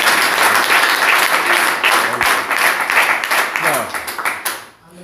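A church congregation applauds loudly and continuously for several seconds, dense close clapping that fades out near the end, with voices mixed in.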